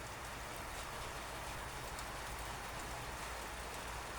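Steady thunderstorm rain falls in an even, continuous hiss across the whole stretch, with no voices and no thunder cracks standing out.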